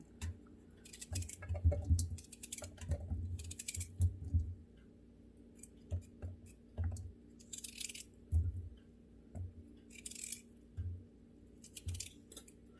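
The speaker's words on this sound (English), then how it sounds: "Cut them up in little chunks." Scissors snip fried soup pieces into little chunks, giving repeated close, crisp cuts in an irregular rhythm with short pauses between them, fairly quiet overall.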